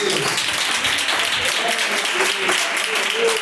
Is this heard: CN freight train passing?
no